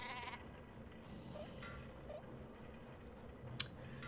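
The regular sheep weapon in Worms: Clan Wars bleats faintly over a low game backdrop, with a short sharp click near the end.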